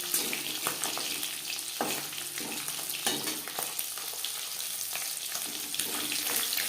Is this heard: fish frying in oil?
yes